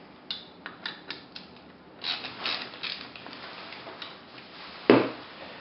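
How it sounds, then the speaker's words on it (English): A 1/4-inch drive ratchet loosening nuts inside a Federal Visibar light bar: close, crisp series of rapid clicking strokes, then a few softer clicks and a sharper knock near the end. "We're going to do that by loosening these nuts inside here. 1/4 inch drive."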